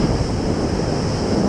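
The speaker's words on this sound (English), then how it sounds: "Oh, look at these waves coming for me." Waves breaking at Horseshoe Bay beach in Bermuda, a continuous wash of surf with some wind rumble on the microphone, loud and close, with no voices.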